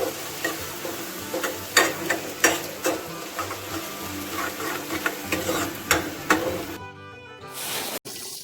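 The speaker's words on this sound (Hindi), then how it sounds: "इसके बाद हम लेंगे प्याज और इन्हें हल्का ब्राउन होने तक भून लेंगे।" Onions frying in a pan for a dhaba-style egg curry, a steady close sizzle broken by repeated scraping stirs of the spoon, ending with a brief quieter pause and a knock.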